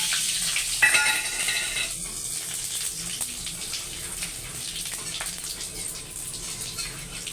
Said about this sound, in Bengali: এবারে আমি ফোড়নটা দিয়ে দিলাম, গোটা গরম মশলা, তেজপাতা,